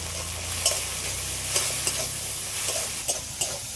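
Tomato sizzles in a pan with salt and turmeric, a steady frying hiss broken by several scraping stirs of a spoon, close up and with no voices.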